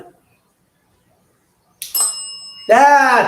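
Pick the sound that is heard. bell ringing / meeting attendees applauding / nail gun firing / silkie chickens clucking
bell ringing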